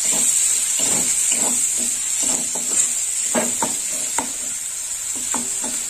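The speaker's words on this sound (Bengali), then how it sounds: "এটা নেড়ে চেড়ে দেবো। পেঁয়াজটা একটু লাল লাল করে ভাজা হবে" Onions frying in a pan for a prawn malai curry, with a steady loud sizzle and repeated scraping strokes of a spoon stirring them, close up and without talk.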